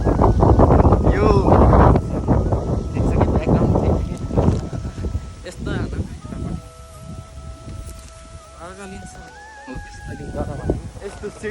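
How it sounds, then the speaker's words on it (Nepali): Breezy wind on a hillside near Shaktikhor waterfall in Nepal buffets the microphone with a loud, low rumble early on, then eases. A person talks over it while faint tonal background sounds drift in later. "यस्तो सिरसिरे हावामा वाउ"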